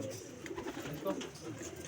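Sialkoti and Qasoori high-flyer pigeons coo softly nearby, low throaty murmurs over a quiet background.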